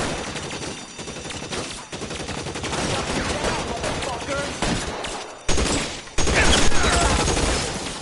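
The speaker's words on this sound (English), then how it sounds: "I'll lay down suppression fire" Dense bursts of gunfire in the LA Noire video game, a near-continuous fusillade of overlapping shots and automatic fire with louder spikes toward the end, under game voices.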